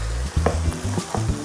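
Asparagus and pancetta sautéing in a pan, a loud close sizzle with repeated stirring scrapes and clacks against the pan over a short, busy stretch.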